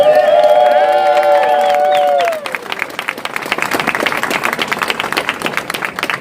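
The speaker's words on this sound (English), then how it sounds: "Let's give them all a huge round of applause." Crowd at an outdoor protest rally in Barcelona bursts into loud applause with cheers, following a sustained tonal sound in the first two seconds, then dense clapping and whoops continue strongly to the end.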